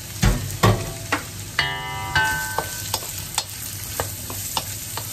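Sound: carrots sautéing in a pan

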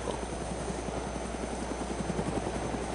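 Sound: helicopter flying in a video game (TigerHeli)

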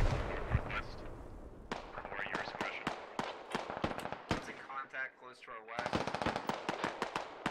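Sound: gunfire in the video game SquadOps

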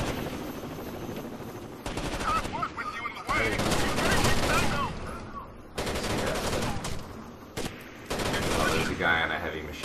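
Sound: heavy machine gun fire in video game Rainbow Six Vegas 2

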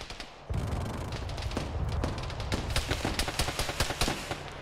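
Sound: gunfire in a military video game (ShackTac)

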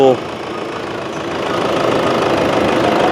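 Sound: piezo injector diesel engine idling roughly

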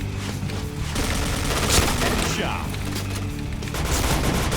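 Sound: gunfire from the video game Point Blank

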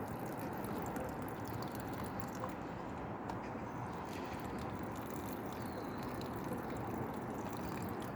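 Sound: watering pepper plants on a balcony

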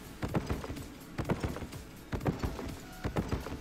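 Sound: donkey hooves clip-clopping in the video game Albion Online

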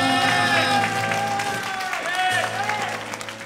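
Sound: audience applause after trio concert

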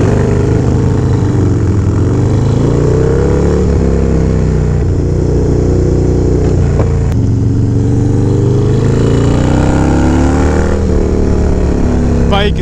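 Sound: Harley-Davidson Dyna Low Rider motorcycle engine running

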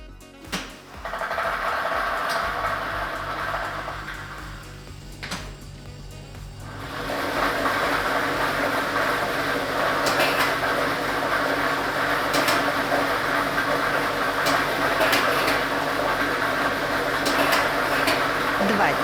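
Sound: lottery ball drawing machine running

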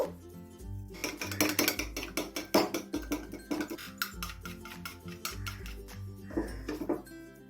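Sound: whisking eggs with salt in a bowl

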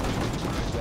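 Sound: repairing equipment in the video game Foxhole

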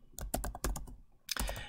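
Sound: typing a web address on a computer keyboard

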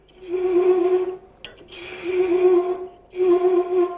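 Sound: hand thread chasing tool cutting wood on lathe

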